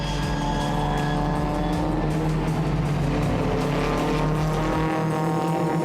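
Ford Mustang engine roaring close by at full throttle while lapping a Ford Cortina on a hillside race circuit, a continuous loud multi-cylinder drone with engine notes shifting, then cutting away sharply near the end.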